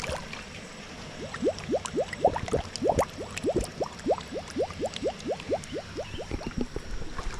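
Water is fetched and poured into a container at a rural home in Jamaica, giving a steady run of rising glugs and splashy filling sounds that repeat rhythmically at moderate volume.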